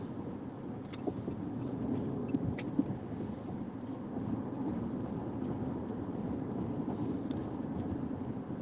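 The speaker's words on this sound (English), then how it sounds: "I hate traffic." Road traffic rumbles steadily and continuously at a constant level, with faint clicks and ticks scattered over the drone and no voices.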